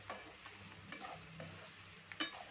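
Ground masala being stirred into pumpkin cooking in a pan, giving faint soft scrapes and a low sizzle, with a few light utensil taps and one clearer clink near the end.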